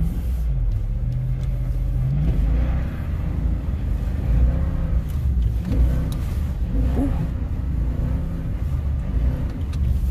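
A Toyota Tundra Double Cab pickup drives in first gear across a snowy parking lot, its engine a steady, loud low rumble that swells slightly as it pulls, continuous for the whole stretch with no talking.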